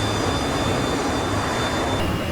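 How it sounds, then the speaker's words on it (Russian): Roaring jet engines of several approaching military aircraft in a war battle scene, a loud, steady broadband rumble that fills the whole stretch without a break. "Zbliżają się 4 samoloty."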